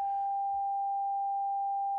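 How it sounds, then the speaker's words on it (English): A steady, pure sine tone from a Three Sisters synthesizer module, a single unwavering pitch held at constant loudness throughout, alone with no other sounds. "sine wave from the three sisters into our mixer."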